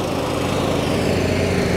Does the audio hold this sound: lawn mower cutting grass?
yes